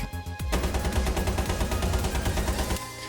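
AK rifle fired in sustained automatic bursts inside a first-person shooter game, rapid evenly spaced shots running for nearly three seconds, loud and close, with no talking.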